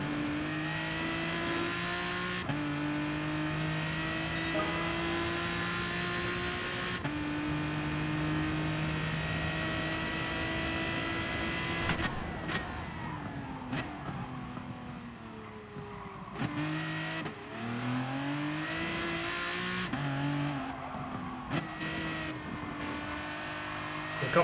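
The Aston Martin DBR9 race car's engine drones loud and steady in Gran Turismo Sport, holding high revs before a run of quick downshifts and rising re-accelerations, with brief tire squeal in the later corners.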